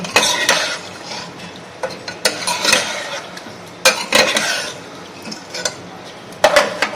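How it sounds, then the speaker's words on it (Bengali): A spoon stirs chicken yakhni pulao in a pot. Irregular metallic scrapes and clanks against the pot come close and fairly loud, over a faint background sizzle, with no speech. "দিয়ে এবার এটাকে পুরোটাকে আমি নাড়িয়ে নেব"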